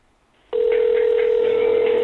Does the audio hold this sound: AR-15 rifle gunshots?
no